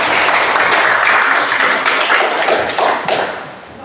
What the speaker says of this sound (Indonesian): Kan tepuk tangan bersama.